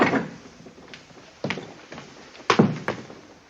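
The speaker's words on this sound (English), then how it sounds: "Close the door." A door is handled and shut in an old film scene at Camelot: several wooden thunks and clatters, a soft bump first, then heavier knocks with a closing slam near the end, fairly quiet.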